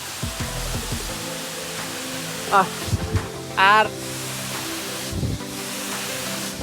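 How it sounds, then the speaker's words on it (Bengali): A waterfall at Sajek roars as a steady broadband rush throughout, with people talking over it and a few brief louder voice bursts. "ঝর্ণাটা দেখুন"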